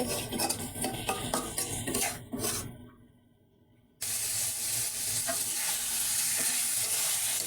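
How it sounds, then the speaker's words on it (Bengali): Pointed gourds gently stirred into frying masala in a hot pan, a steady loud sizzle with soft scraping stir strokes, briefly dropping quiet before the frying roars back strongly. "পুতুলগুলা দেওয়ার পরে আমি হালকা করে নেড়ে চেড়ে দেবো"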